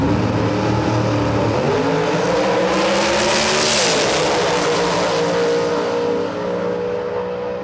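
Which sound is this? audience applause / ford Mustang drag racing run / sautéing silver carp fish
ford Mustang drag racing run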